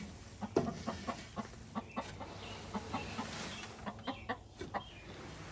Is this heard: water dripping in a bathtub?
no